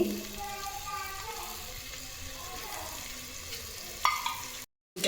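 A ground spice paste is being fried in oil with more oil added, making a continuous moist sizzle and bubbling close by. There is a brief sharp clink near the end, then a short silence.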